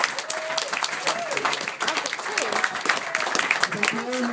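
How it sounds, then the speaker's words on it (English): Wedding guests at a hotel reception clapping and cheering together, a dense burst of applause mixed with whoops and loud voices calling out. "we have a big cheer for the hotel who've done a wonderful job today"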